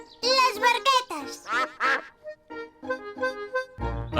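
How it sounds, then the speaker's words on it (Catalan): Cartoon ducks swimming on a pond quack in a lively run of nasal, voiced quacks, one after another. The calls are close and clear, and a low thump falls near the end. "Els ànecs neden al seu estany."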